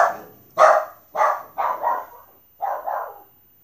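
Dogs bark in a loose string of five or six loud, close woofs, a pause before the last pair, with no talking underneath.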